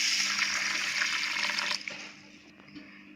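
Water streams steadily into a bowl of finger millet, a loud continuous rushing pour that cuts off abruptly and leaves a few faint drips and splashes, no talking.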